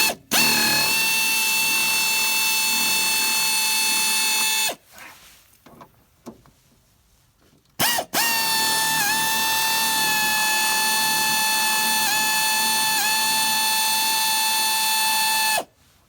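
A power drill loosens the long reservoir bolt on a Ford Fusion brake system, whining loudly and steadily for several seconds, then a short pause with faint rattling before a second, longer sustained run close by.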